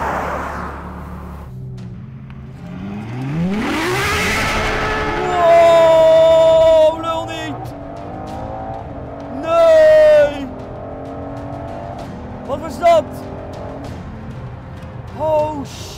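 A Ferrari hypercar revs and accelerates hard, with rising engine sweeps and two loud surges mid-clip, plus tire noise and short bursts afterward. Excited voices talk over it.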